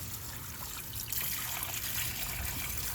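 Water mixed with baking soda trickles and splashes as it rinses corroded car battery terminals, a faint, steady dribble running down behind the battery.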